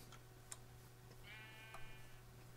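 A single sheep bleats with a wavering, nasal cry for about a second, over a steady low electronic hum and a few soft ticks.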